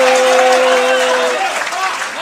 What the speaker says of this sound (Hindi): बहुत बहुत तालियां भाई, वाह स्पेशल तालियां।